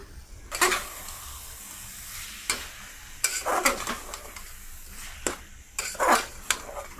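Onion paste, chili powder and garam masala are sautéed with softened vegetables for mushroom biryani, with a low sizzle broken by several sharp bursts of spoon scraping and stirring in the pan.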